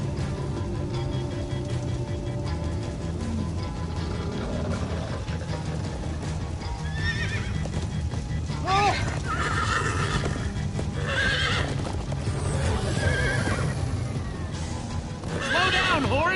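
Horses gallop and neigh in the video game Minecraft Story Mode, clip-clopping hooves running continuously beneath several loud whinnies in the second half, mixed with game effects.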